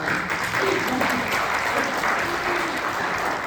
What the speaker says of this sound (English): let's applaud for Ellen